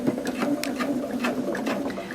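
A sewing machine stitches fabric pattern pieces with a steady, rapid mechanical chatter throughout, moderately quiet and close, with no talking.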